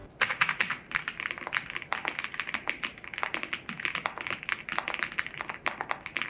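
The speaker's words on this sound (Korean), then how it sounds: "마지막은 아우라 F108 독거미 키보드입니다." Rapid typing on an Aula F108 full-size 108-key mechanical keyboard, a steady stream of crisp, close key clacks with uneven rhythm and no talking.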